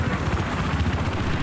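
A helicopter in the Battlefield 4 beta on the Shanghai map makes a loud, steady rotor thump with a rapid chopping pulse, close and continuous throughout.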